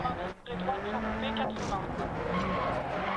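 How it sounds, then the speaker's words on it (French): A four-wheel-drive turbo Mini rally car with a sequential gearbox slides sideways near Monte-Carlo. Tires skid and squeal over a steady engine drone, and a voice speaks over the noise. "la voiture se met en crabe et ensuite les 4 roues dérapent"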